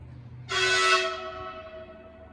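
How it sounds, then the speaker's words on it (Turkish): A single train horn blasts suddenly and holds for over a second before fading, heard from a moderate distance near a train station, with no talking. "Tren düdük çaldı değil mi?"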